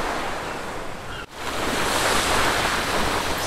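Ocean waves in a video game story scene, a loud, continuous washing roar of surf with a brief dip partway through before swelling again, with no talk.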